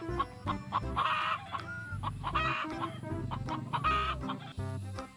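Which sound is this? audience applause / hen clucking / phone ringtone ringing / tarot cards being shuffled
hen clucking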